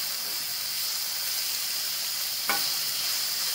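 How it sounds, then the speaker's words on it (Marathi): Grated bitter gourd stirred and dry-roasted on an iron tava over medium flame gives a steady, close sizzling hiss, with one brief scrape or clink near the end. "आता तव्यावरती मीडियम फ्लेमवरती सतत हलवत राहू आणि भाजून घेऊ कारलं चांगलं"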